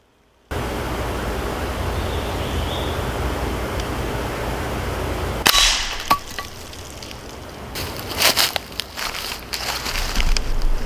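Hatsan Model 125 Vortex .25 caliber pellet rifle shots striking a can outdoors, over a steady broadband hiss: one sharp crack, then a cluster of several short, loud impacts a couple of seconds later.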